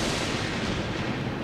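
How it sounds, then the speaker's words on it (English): Thunder booms during a cartoon storm as a loud, steady broadband roar that rumbles without a break for a second and a half. "When the lightning flashes, we start to count. Then when the thunder booms, we stop."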